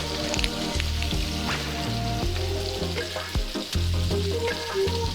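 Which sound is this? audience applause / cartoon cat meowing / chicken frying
chicken frying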